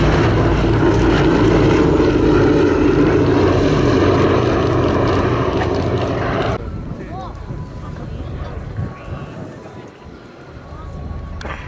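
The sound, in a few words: B-17 Flying Fortress propeller aircraft engines flying past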